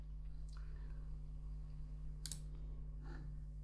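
A computer mouse clicks to toggle the sidebar in the Roam Research app, giving two faint, sharp clicks a second apart over a steady low electrical hum.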